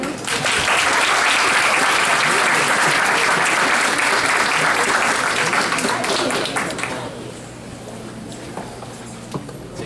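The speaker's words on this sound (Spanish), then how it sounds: "Démosle un fuerte aplauso al ingeniero." An audience at a chemical engineering seminar gives a speaker loud, dense applause that carries on for about six seconds, then quickly thins out and fades to scattered claps.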